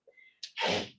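A single person's sneeze, a brief intake followed by a loud burst, close by during an indoor commercial real estate training session.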